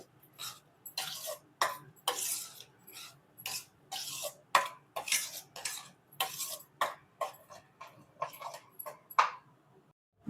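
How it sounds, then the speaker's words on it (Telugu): Spoon stirring soaked saffron milk into milk rava kesari in a pot: a steady series of scraping, clinking strokes, close and fairly quiet, with no talking. "కుంకుమ పువ్వుని పాలలో నానబెట్టుకొని వేస్తున్నాను వేసుకొని మిక్స్ చేసుకోవాలి"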